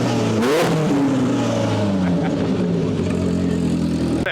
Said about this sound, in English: This is our active exhaust system, yeah.